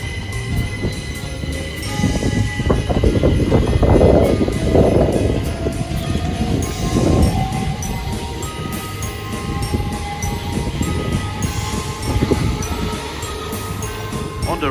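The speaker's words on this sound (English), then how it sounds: "Departing now is the delayed 1308 Southeastern service to Charing Cross." A Southeastern train departs Orpington station, a low rumbling roll with rising and falling swells of wheel and motor noise over a steady platform ambience, with faint clicks and no speech.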